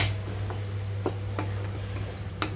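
Boiled baby corn being added and stirred into a thick masala curry in a pan: soft scraping stir strokes and light clinks over a steady low sizzle and hum, fairly quiet, no voices.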